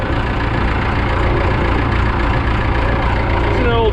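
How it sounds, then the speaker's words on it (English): An old diesel engine on a John Deere 450B bulldozer idles loud and close with a dense, steady low rumble, just after being started on a new starter with one battery. "Listen to that old diesel"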